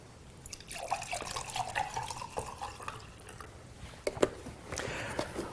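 High-pH (11.5) Kangen water is poured into a container, giving a soft, quiet trickle with scattered splashy drips and a brief louder spatter toward the end.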